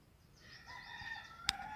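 A rooster crows once, fairly close and rising over a quiet background, with a short sharp knock near the end.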